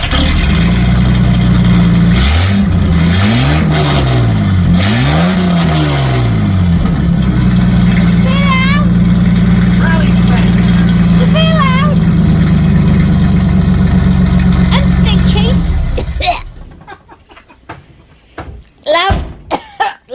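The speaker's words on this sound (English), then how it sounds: "2 litre straight 6 petrol" Two-litre straight-six petrol engine runs loud inside a workshop, revving up and down in repeated swells before settling to a steady drone, then cutting off; a few voices are briefly heard near the end.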